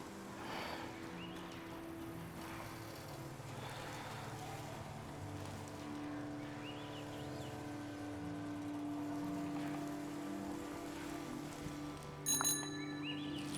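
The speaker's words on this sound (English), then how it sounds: "that's gotta be my favorite thing from this game so far is ringing the bell" A bicycle bell in the video game Season: A Letter to the Future rings briefly near the end, over a steady bed of layered in-game ambience and music, with no one speaking.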